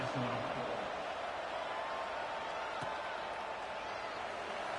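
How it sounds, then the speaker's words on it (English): A stadium crowd in the NCAA 26 college football video game buzzes as a low, steady murmur in the background, while a commentator talks over it. "this crowd is buzzing after that last score"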